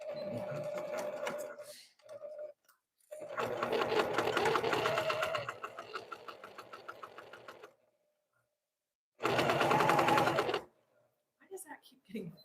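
A sewing machine stitches a quarter-inch quilting seam with backstitching in several close, rapid bursts of rhythmic mechanical chatter separated by pauses, with some speech around it.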